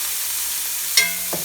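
Meat frying in a pan with garlic, salt and pepper, a steady close sizzle with a faint clink partway through, no talk.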